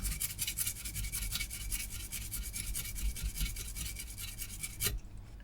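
Thin single-strand wire-wrap wire having its insulation scraped off with a fingernail, heard close up as a continuous dry rasping and rubbing for about five seconds, ending with a brief sharper scratch.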